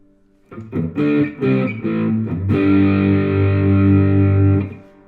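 Electric guitar through a Klon-style overdrive pedal: a few short gritty notes, then a thick distorted chord rings out and sustains before cutting off.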